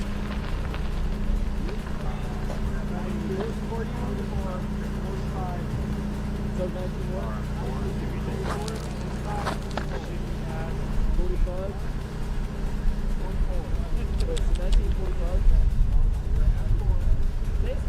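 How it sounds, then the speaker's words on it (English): A rally car pulls up at a stage of the Prescott Rally, its engine a low, steady rumble that grows slightly louder near the end, under ongoing talk. "we got another car pulling up"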